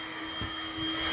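A Dirt Devil vacuum cleaner runs steadily indoors, a continuous whining drone with a faint thump partway through and a slight rise in loudness toward the end.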